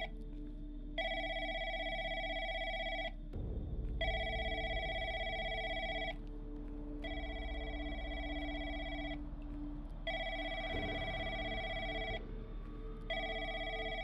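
Telephone in a horror video game set in an empty call center rings in repeated electronic bursts, four long rings with short gaps, loud and close over a steady low hum.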